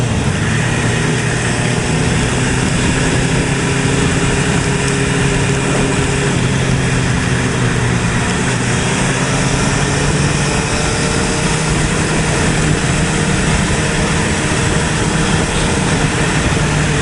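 A 2008 Suzuki Hayabusa engine pulls hard under limited throttle, a loud, steady roar with rising drone and heavy wind rush recorded from the rider's position, continuous throughout with no talking.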